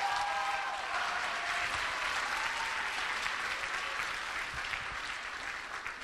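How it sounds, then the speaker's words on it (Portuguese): Sustained applause from a church congregation, continuous dense clapping throughout, slightly tapering toward the end, with faint crowd voices beneath. "Forte esse aplauso ao Rei."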